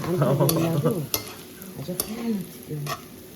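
Food fries and sizzles in a pan while being stirred, a steady crackle broken by scraping stirs, with voices talking over it.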